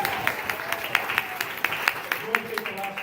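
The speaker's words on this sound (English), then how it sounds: "Give Kathy a round of applause, please." Audience applause at a magic show greeting a volunteer, with sharp individual claps ringing out in a steady, moderate patter at close to middle distance, and voices faintly beneath.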